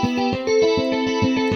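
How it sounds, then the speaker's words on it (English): Electric guitar-style patch from the Ambient Electric instrument with chorus added, playing a loud, rapid repeating arpeggio of pulsing plucked notes with shimmering sustained tones, no voices. "Or maybe add a chorus."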